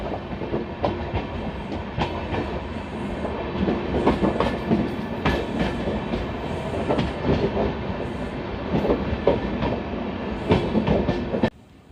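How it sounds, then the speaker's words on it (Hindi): The Kasganj–Aishbagh Express passenger train rolls along the tracks toward Bareilly City, passing beneath a railway bridge, with steady loud rumbling and repeated clickety-clack wheel beats that cut off abruptly near the end. "नीचे से हमारी ट्रेन बरेली सिटी की ओर बढ़ रही है"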